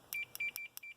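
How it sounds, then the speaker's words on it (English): A multimeter in continuity mode beeps on a good fuse while testing a Cyclops Champ electric fence charger, five short, sharp, high-pitched beeps in quick succession, close and clear. "it beeps at you telling you"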